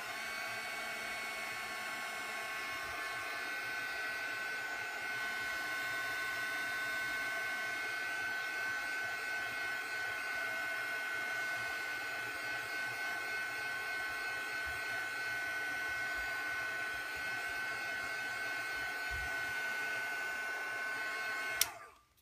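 Heat tool drying ink on a handmade card, a steady loud whirring blower hum running continuously for about twenty seconds before cutting off abruptly at the end.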